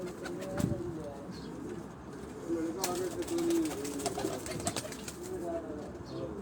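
Pigeons in a Rawalpindi keeper's loft coo repeatedly at close range, soft throaty calls rising and falling under a voice speaking nearby.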